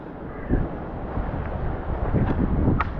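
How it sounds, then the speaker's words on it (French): Cold wind blows steadily beside a trout river, a broad low rumble of gusts buffeting the microphone with a couple of brief sharper noises near the end. "Le vent ultra froid dans le dos"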